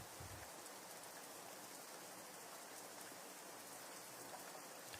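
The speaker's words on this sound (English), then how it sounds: "can listen to the nice rain sounds with the candles and the lamp" Rain falls steadily as a soft, even hiss of drops on surfaces, faint and continuous for several seconds with no voices.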